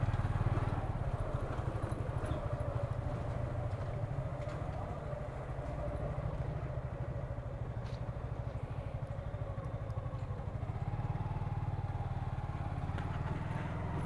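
A motorbike ridden at night after rain, its engine running steadily with a low rumble and constant road and wind noise throughout, close and continuous, with no talking.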